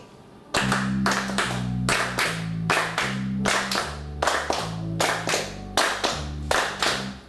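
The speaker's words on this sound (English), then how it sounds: "Now let's clap a bar of swung quavers" A workshop group clapping a bar of swung quavers together in a long-short rhythm, crisp unison claps in an uneven lilting pattern, fairly close and alone.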